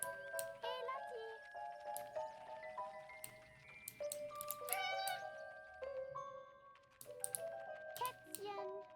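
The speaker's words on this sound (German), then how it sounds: "Kätzchen." A kitten meows in short, high, repeated cries over soft background music, with a few faint clicks.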